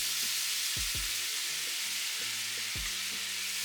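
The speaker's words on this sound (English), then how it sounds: "Then I add in the broth." Broth goes into a pan of sizzling butter and garlic for a vegetable dish, producing a steady close frying hiss with a few low knocks of pan or spoon, no talking.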